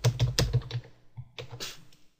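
Quick bursts of keystrokes on a computer keyboard set up for Japanese input, close and crisp, two short flurries of clicking separated by a brief pause.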